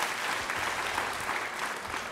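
Studio audience clapping on a talk show, a dense, even burst of applause filling the short moment at moderate level.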